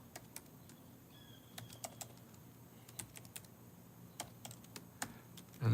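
A zip code is typed on a computer keyboard, a quiet run of irregular close key clicks with no talking.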